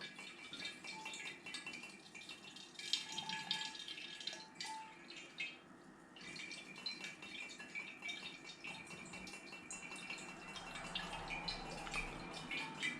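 Wort siphoning through a tube fitted with a sediment stopper into a fermenter during an all-grain brew-in-a-bag brewday makes a steady, close trickle and splash of liquid with faint rattles, running continuously without talk.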